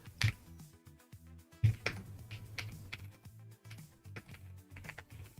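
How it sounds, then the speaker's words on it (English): Close, fairly quiet clicking of computer keyboard keys in irregular bursts and single taps, with a couple of sharper louder key strikes, and no talking. "I'm typing sideways."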